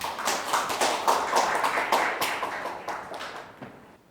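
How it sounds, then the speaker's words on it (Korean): Audience clapping to welcome a speaker at a corporate ESG seminar session, a brisk burst of many hands that gradually thins and fades toward the end. "큰 박수로 맞이해 주세요."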